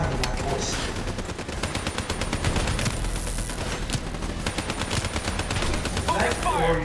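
Rapid bursts of automatic gunfire from the Call of Duty: Black Ops 3 video game, dense repeated cracks layered over a constant roar of combat, with a voice speaking faintly beneath the shooting.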